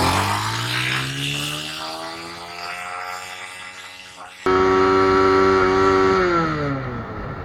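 TVS Apache RTR 180 motorcycle engine revving in first gear, a loud buzzing whine that rises and falls in pitch, jumps sharply louder midway as it pulls away, and holds a strong steady drone, with a voice briefly heard over it.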